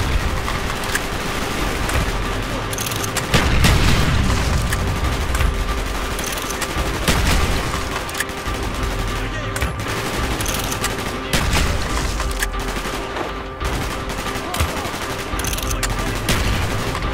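Dense, continuous bursts of gunfire from Call of Duty: Black Ops crackle throughout, with rapid automatic volleys and scattered single shots amid a loud battle din.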